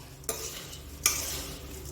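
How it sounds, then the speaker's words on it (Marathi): Puffed rice (bhadang) is tossed in a thin hot wok, two quick scraping stirs followed by a soft dry rustle and faint sizzle, close and alone. "आणि मग नुसताच असा भडंग हलवायचा"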